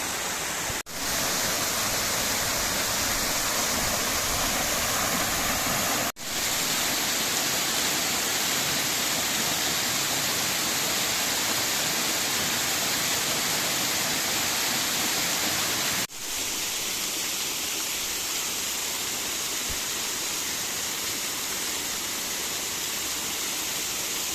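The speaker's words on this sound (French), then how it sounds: "Il y a une petite cascade ici aussi, une toute mignonne." Steady, loud rush of a small waterfall on the Grandval cascades trail in Cantal, a dense continuous roar filling the whole clip with no voices.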